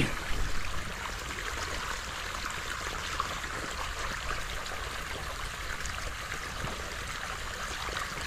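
Steady rushing of flowing water, a constant broadband wash with no talk, slightly louder for the first moment then even throughout.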